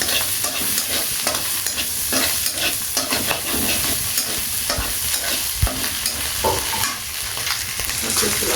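Minced garlic and ginger stirred as they fry in a pan for Korean spicy ramen, a steady sizzle under repeated scraping strokes of the spoon, close and continuous with no talking.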